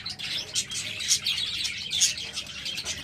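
Pet budgerigars chirping indoors, a quick run of bright, repeated high tweets and chatter at close range.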